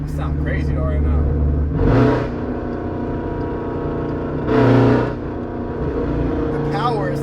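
An SRT Jeep engine with catless mid pipes rumbles steadily inside the cabin, swelling into two short revs, while someone talks over it.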